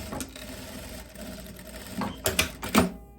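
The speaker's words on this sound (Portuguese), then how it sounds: "Faz a costurinha" Sewing machine stitching a pocket onto a laise dress, a few short bursts of close mechanical whirring and clatter separated by brief pauses.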